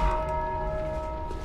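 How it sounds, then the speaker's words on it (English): A bell rings in Dark Souls 2, a sustained resonant metallic tone with steady overtones humming over a low rumble, lingering evenly throughout. "I accidentally used the bell."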